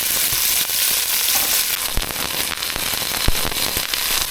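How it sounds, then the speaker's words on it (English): Chicken sears in a hot pan, a steady loud sizzle with scattered sharp pops and crackles throughout, close and continuous with no talking. "we'll just let this first side start searing."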